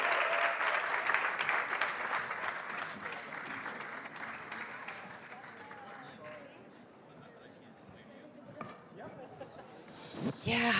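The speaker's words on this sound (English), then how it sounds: "Let's bring on the applause and welcome to the stage Gwen, Sebastian, Roxana, and Jérôme" A conference audience in Valencia applauds to welcome speakers onto a stage, the clapping loud and dense at first, then gradually thinning and fading, with voices and stage movement emerging near the end.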